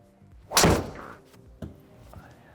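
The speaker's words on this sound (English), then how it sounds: "you can try to hit balls like this" A sharp thwack of a golf driver striking a ball, followed by a couple of softer thumps and faint rustling.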